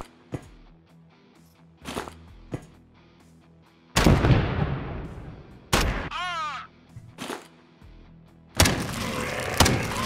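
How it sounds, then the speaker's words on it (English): Heavy shotgun blasts in the turn-based sci-fi game Quasimorph, several sharp booming shots spaced apart amid clanks and a whooshing sweep, loud and close with quiet gaps between. "I guess we'll just have to shotgun them down."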